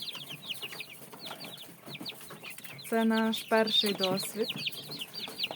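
Young chickens peep and cluck in a busy chorus of short chirps, while a person speaks briefly over them.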